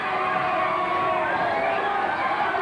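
Pro wrestling crowd yelling and cheering during a match, a steady, dense wash of voices at moderate level throughout, with a few louder shouts rising out of the noise.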